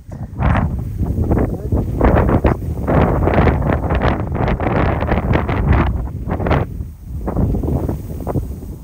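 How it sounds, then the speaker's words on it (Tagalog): Loud, gusty wind in Calgary buffets the microphone in rough bursts for several seconds, with a brief lull near the end, on a sunny day before snowfall. "Narinig niyo ba yung hangin?"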